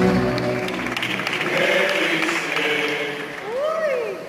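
Audience applauding after a rondalla song, a sustained patter of clapping with cheers and voices mixed in, swelling slightly near the end.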